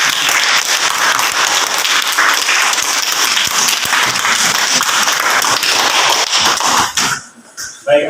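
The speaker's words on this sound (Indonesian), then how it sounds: "Mari kita berikan tepuk tangan sekali lagi ya." A classroom group claps together in dense, sustained applause for about seven seconds before it quickly dies away.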